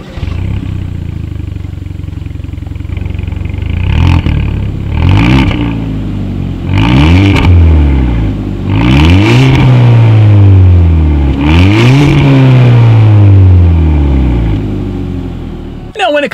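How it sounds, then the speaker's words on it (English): A 2018 Hyundai Elantra GT engine revs repeatedly through its exhaust in short bursts over a steady idle, each rise and fall of pitch clearly audible and close by. "here is that exhaust clip."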